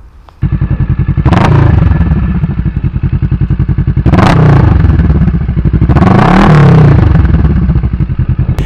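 A 2015 Kawasaki Vulcan S fitted with a full Delkevic exhaust idles loud and close, its throbbing engine punctuated by three sharp throttle blips that rise and fall, the last one a longer rev.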